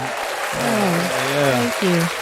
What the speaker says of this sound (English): Appreciate the round of applause